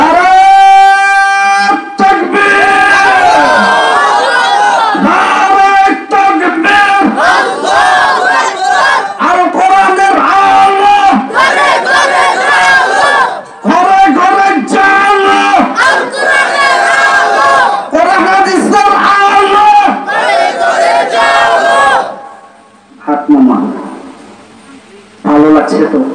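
A large crowd at a Bangladeshi Islamic waz sermon roars back a loud, sustained collective chant in reply to a Nara-e Takbir call, filling the space in repeated surges of massed voices before fading out near the end.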